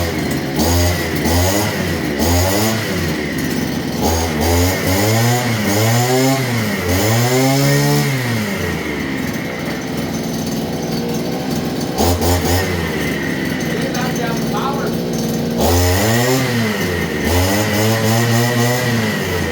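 A small gasoline engine on budget power equipment with a spinning blade, loud and close, revving up and down in repeated bursts with a steady idle between rises.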